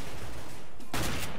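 P90 gunfire in CS:GO, a rapid burst of automatic shots that erupts suddenly after a second of muffled game noise, loud and close.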